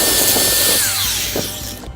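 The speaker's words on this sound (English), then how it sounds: "A flat wheel or a conical sanding wheel in a drill." A drill spins a conical sanding wheel inside a corroded caliper slide pin bore, a steady high whine with grinding scrape that slows and winds down near the end, close and loud.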